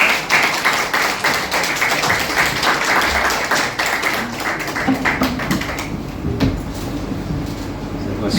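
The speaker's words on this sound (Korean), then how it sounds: "나오실 때 우리 박수로 우리 환영하겠습니다." A church congregation in Tbilisi claps to welcome the pastor, a lively patter of hands that fades after several seconds into footsteps and room noise.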